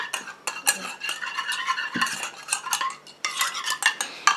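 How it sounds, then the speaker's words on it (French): Stirring urea into an aqueous phase in a small container for a chamomile eye-contour cream: rapid scraping and clinking of a utensil against the container, close and busy with brief pauses. "je vais mélanger jusqu'à ce que mon urée soit fondue"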